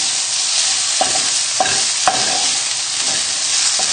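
Bacon fries in a pan over high heat with a steady bright sizzle, while a utensil scrapes and stirs through it in a few distinct strokes, close and fairly loud, with no talking.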